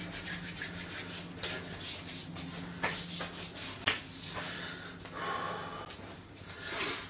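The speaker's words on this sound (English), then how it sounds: "Rub your hands together." Hands rub together in repeated dry strokes during a guided self-massage, the close, soft friction swishing in uneven bursts with small breathy sounds between them.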